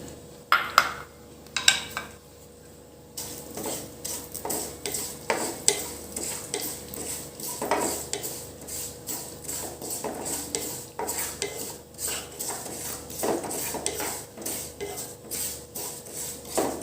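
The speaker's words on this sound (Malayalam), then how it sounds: "1 ടേബിൾ സ്പൂൺ എള്ളിട്ട് വറുക്കുക" Sesame seeds fry in ghee in a pan while a spoon stirs and scrapes steadily against the metal, with a soft continuous sizzle and occasional louder clinks.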